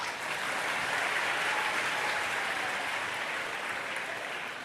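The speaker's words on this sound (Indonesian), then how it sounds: "Tepuk tangan lagi ya." Steady, dense applause from an audience at an Islamic religious lecture fills the whole stretch, an even wash of clapping with no voices rising above it.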